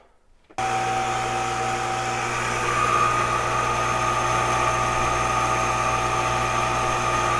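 Water pump for a home plumbing system switches on abruptly and keeps running with a steady, loud motor drone and hum, close and without speech.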